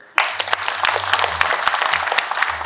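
An audience applauds at a talk concert hosted by the Economic, Social and Labor Council: a burst of steady, dense clapping starting abruptly and continuing loud throughout, with a low hum beneath.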